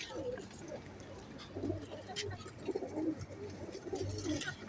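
Sialkoti pigeons, a Teddy male and a 35 female, cooing softly in low repeated phrases amid faint background chirps and ambient noise.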